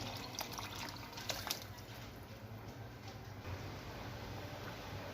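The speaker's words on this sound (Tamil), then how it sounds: "அந்த புளி, மிளகாய் பொடி, உப்பு சேர்த்து அந்த கரைசலை வந்து இதில் சேர்த்துடலாம்" A tamarind, chili powder and salt solution being poured into a simmering prawn curry in a village kitchen, heard as a steady, fairly quiet liquid splash and trickle with a few sharper spatters near the start.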